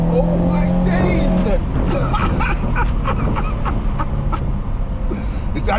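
A new car accelerates hard on a wild drive, its engine roar loud and continuous, with a brief tire squeal early on and excited voices talking and shouting throughout.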